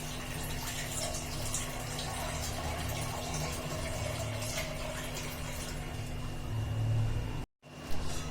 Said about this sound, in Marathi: आता हे पाणी आपल्याला ओतून टाकायचंय